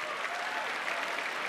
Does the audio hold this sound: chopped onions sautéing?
no